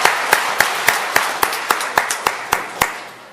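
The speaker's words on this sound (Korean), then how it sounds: "하나님께 영광의 박수를 보내겠습니다." Congregation in a church clapping in unison, about eleven sharp, evenly spaced rhythmic claps over a low hum of room noise, fading slightly toward the end.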